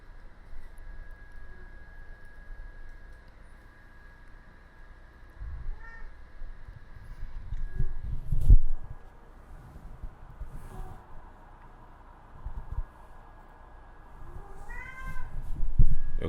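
A cat meows several times, fairly soft and spaced apart, over a quiet indoor background hum.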